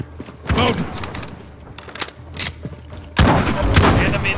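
Shotgun blasts from a Model 680 firing Dragon's Breath rounds in Call of Duty: Modern Warfare on PC, with several loud booming shots spaced out among game sounds and a heavy burst near the end.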